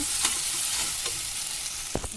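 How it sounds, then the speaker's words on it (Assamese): Mustard seeds fry in a hot pan as a spoon stirs them, giving a steady loud sizzle with a few scraping strokes near the end. "লৰাই দিম। বহুত বেছি ভাজি নাপালাব সৰিয়হখিনি, নহ'লে তিতা লাগি যাব।"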